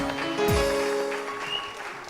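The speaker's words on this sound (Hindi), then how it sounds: "हदील के लिए बहुत सारी तालियां।" Studio audience applause on a TV morning show, a steady wash of clapping with music tones running underneath throughout.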